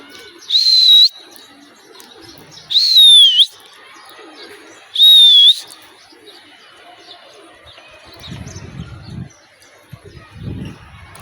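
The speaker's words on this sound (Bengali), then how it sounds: "দেখেন অল্প কিছু কবুতর" Pigeons at a small loft give three loud, clear whistling calls spaced about two seconds apart, followed by softer low rustling and fluttering near the end.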